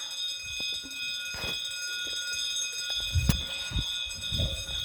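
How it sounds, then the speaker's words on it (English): Original old fire alarm bells in a house keep sounding, a steady high ringing tone running throughout at moderate level, with a few low knocks and thumps near the end. "Fire alarms are still sounding in this part of the house."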